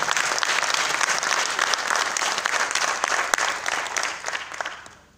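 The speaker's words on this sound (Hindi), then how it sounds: "एक बार अपने लिए भी ताली जोर से बजा सकते हैं" Dense applause from an audience at a motivational hosting event, loud and sustained with many hands clapping at once, then thinning and fading out over the last second.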